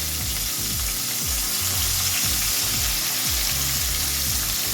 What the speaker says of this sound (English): So I'm gonna let these fry, guys, right here, and we'll be back. Turn our quail.